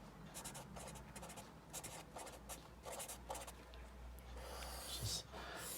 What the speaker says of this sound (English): Let's write this down here.